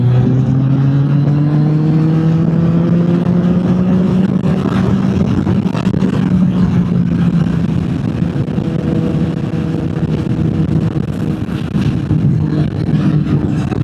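Motorcycle engines at a busy summer-evening bike night, with one bike rising in pitch as it accelerates past, loud and close, over a continuous rumble of other engines.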